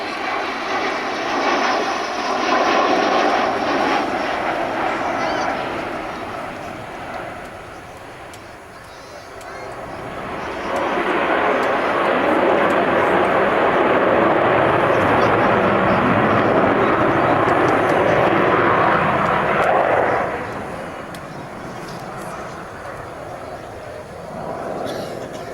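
The Avro Vulcan XH558 bomber roars past at an air display, a loud broad engine rumble that swells, eases, then builds again into a sustained, powerful roar before fading, with a commentator's voice over it.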